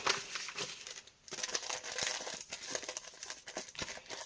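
Crinkling and rustling of thin paper surprise packets being handled and torn open, a close series of irregular crackles with brief pauses.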